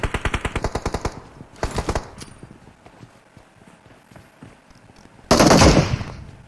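Automatic gunfire from the MR5 rifle in PUBG Mobile on the Erangel map, a rapid string of sharp shots followed by a second short burst and then a loud noisy blast near the end.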